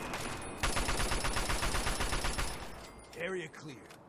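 Rapid bursts of automatic gunfire in the video game Fallout 3 fire loudly and continuously for about two seconds, then someone talks over quieter game sounds.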